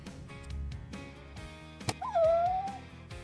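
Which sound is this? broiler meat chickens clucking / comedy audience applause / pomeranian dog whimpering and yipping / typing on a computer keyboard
pomeranian dog whimpering and yipping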